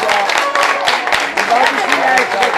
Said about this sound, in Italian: Facciamo un bel applauso per Tania